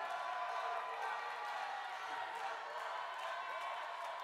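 Audience at the 2011 Miss Universe preliminary competition cheering and applauding, a steady dense wash of crowd noise filling the hall throughout, with no distinct pauses.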